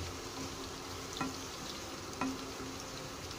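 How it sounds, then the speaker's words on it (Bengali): Marinated spice paste slides into a hot pan for a chicken roast, giving a steady soft sizzle with a couple of brief clinks of a utensil, with no voices. "যে মশলাগুলো আমি মাখিয়ে রেখেছি আগে থেকেই, সেগুলো ঢেলে দিব"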